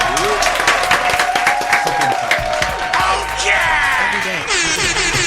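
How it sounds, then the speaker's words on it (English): An audience claps and cheers for a guest in a studio setting, with dense clapping and whoops from a small crowd that runs on while voices talk underneath. "Can we clap it up one time, please?"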